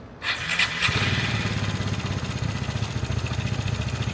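A Piaggio Fly 150 three-valve scooter, resting on its center stand, starts up with a brief cranking burst and then settles into a steady, close, loud idle with a fast, even rhythm.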